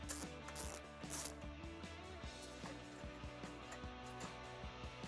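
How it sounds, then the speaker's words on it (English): Ratchet clicking with an 8mm socket on a small extension as fasteners come off a Jeep Gladiator during a front hitch install, steady mechanical ticking at close range with no talk. "You can now remove 2 more fasteners with an 8mm socket and a small extension."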